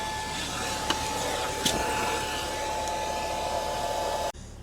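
A Toyota Sienna minivan's built-in car vacuum runs with a steady, loud whirring drone and a constant tonal hum, holding level for about four seconds before it cuts off abruptly.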